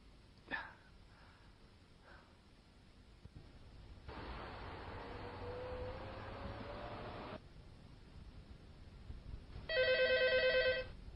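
A telephone rings near the end with a short, loud electronic trill following quieter room noise and a few breaths or small movements earlier.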